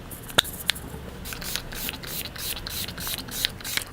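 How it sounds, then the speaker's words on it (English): Several short, soft hissing sprays of Rimmel makeup setting spray in a quiet room, with a couple of sharper clicks near the start. "to complete the look, I'm going to go back in with this Rimmel setting spray"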